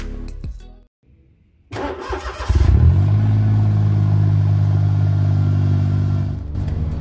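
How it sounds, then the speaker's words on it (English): A Smart Roadster's small turbocharged inline three-cylinder engine cranks briefly, catches, and settles into a steady, throaty idle close by, with a slight uneven thrum. "Engine is inline 3-cylinder with turbocharger."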